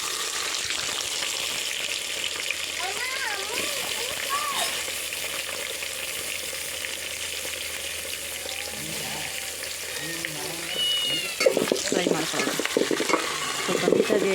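Onions frying in very hot oil in a small pan for village-style chicken biryani, a steady loud sizzle with stirring scrapes throughout and a louder burst of crackling near the end, no talk.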